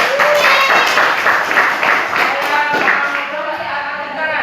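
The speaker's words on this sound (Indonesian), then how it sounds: "tepuk tangan untuk" Loud, close applause from schoolchildren during a counseling session at a junior high school, a dense continuous wash of many hands clapping with faint voices mixed in.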